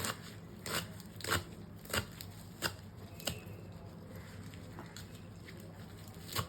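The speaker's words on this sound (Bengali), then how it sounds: "দেখো তেলাকুচু পাতা কাটছি" A knife slices washed ivy gourd (telakucha) leaves very finely on a board, giving irregular soft crisp cuts with short pauses between strokes, close and fairly quiet, with no talk.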